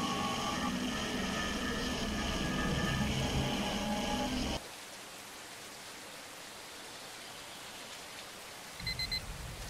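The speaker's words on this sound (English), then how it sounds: "And it's raining." Rain falls in the indie horror game DEER as a steady, broad hiss. It takes over after a tonal musical passage cuts off abruptly, and a low thump returns near the end.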